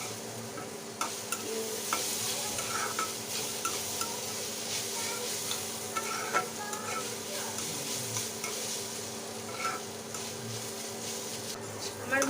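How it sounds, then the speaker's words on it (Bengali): Beetroot fry stirred in a pan with lemon juice just added, a steady soft sizzle running throughout under scattered scraping and clinks of the spoon. "একটু নেড়ে চেড়ে দেবো।"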